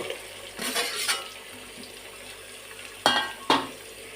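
A spoon scrapes and knocks against a pot while bottle gourd and okra pieces are stirred, with a couple of soft clatters early on and two sharp louder knocks near the end.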